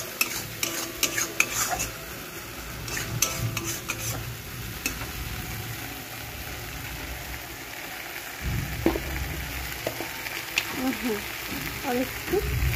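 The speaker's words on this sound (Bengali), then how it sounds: "তো এবার এটাকে নেড়ে নেড়ে শুকনো শুকনো করবো।" A spoon stirring a mixture seasoned with salt, turmeric and cumin powder in a pan to dry it out, scraping and clinking repeatedly against a low background hiss, close and steady throughout.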